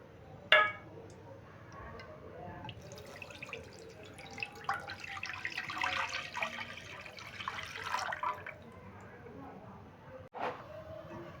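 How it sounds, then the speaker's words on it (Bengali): Boiled liquid milk poured into a pan of hot ghee, a steady splashing, bubbling pour building over several seconds, with a sharp clatter near the start and near the end. "এই যে লিকুইড দুধটা আমি জাল দিয়ে রেখেছিলাম সেই দুধটা আমি দিয়ে দিচ্ছি"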